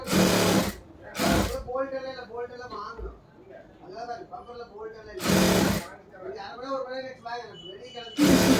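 A sewing machine stitches the lining of a churidar top in short, loud bursts of rapid whirring, separated by stretches where someone talks.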